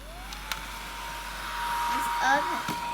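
An electric blower fan pushes air into an inflatable dinosaur Halloween costume, a steady close whoosh that rises slightly in strength partway through, with a brief voice sound near the end.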